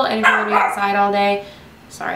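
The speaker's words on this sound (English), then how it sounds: "that's the dog" A dog barks and yips in a few short bursts close by while someone talks continuously over it.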